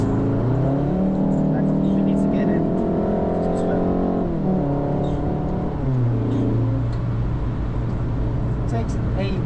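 A car engine accelerates at full throttle during a trackday lap of the Nürburgring Nordschleife, its loud in-car drone climbing in pitch and dropping sharply at gear changes.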